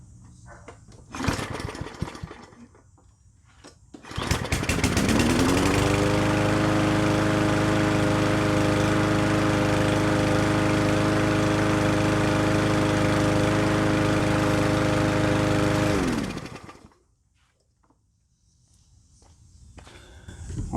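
A cheap Yard Machines MTD lawn mower with multiple problems starts up after a few pulls and footsteps, runs loud and steady at close range for about twelve seconds with slight shaking, then cuts off abruptly.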